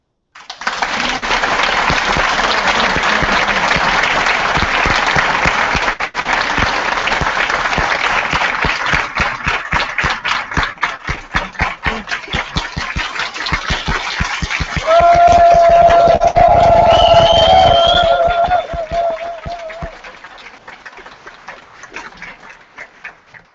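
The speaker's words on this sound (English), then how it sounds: "I would like you to give a big round of applause for the organizers" Loud, sustained applause from a large audience at a student organisation's general assembly in Bucharest, honouring the organisers; the clapping runs unbroken for about twenty seconds before thinning toward the end.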